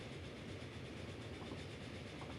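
A train in the Transport Fever simulation game running at around 75 km/h, giving a faint, continuous rumble of rolling wheels on track with no pauses.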